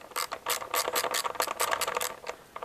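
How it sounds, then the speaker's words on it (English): A ratchet wrench clicks rapidly in bursts, loosening a 10mm bolt on the air filter housing of a Mini Cooper R56 Clubman; close, crisp metallic ratcheting strokes with short pauses between them. "the next thing to do is to undo this 10mm bolt here"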